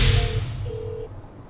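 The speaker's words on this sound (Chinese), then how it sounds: "那在帅弟开启他的国际漫游可以拨打电话的时候呢，他就拨打到我的台哥大。" A mobile phone placing an international roaming call from Japan to a Taiwan Mobile line, with two short electronic call tones, one after the other, heard clearly against a quiet background.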